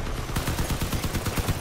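Enemy cannon fire in the vehicle combat game Crossout, a rapid close series of about a dozen sharp blasts hammering out evenly for over a second with no talk over it.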